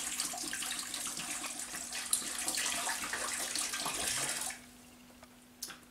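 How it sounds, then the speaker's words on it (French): A litre of water pours into a couscous steamer, a steady broadband splash for about four and a half seconds that then stops, leaving a quiet room with a couple of faint clinks. "je prends mon litre d'eau, je le mets dans la couscoussière tout simplement"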